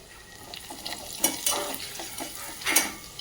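Turmeric and grated fresh coconut frying in hot oil, with a soft steady sizzle and a few clinks and scrapes of stirring, faint and without talk.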